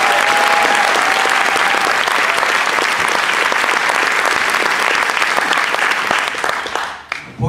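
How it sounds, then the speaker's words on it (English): Loud, full audience applause at a Portland Taiko performance on Whidbey Island, a dense wash of clapping that stays strong for about six seconds and then fades out toward the end. "Let's give them a round of applause."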